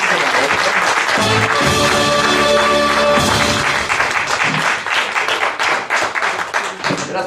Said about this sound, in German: kriegst du bestimmt noch einen Applaus hier von den Gästen